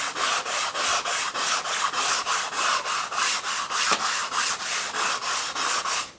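A pool-noodle sanding block wrapped in 220-grit sandpaper is rubbed over a curved wood surface in quick, regular back-and-forth strokes, roughly three per second, each a close, raspy swish.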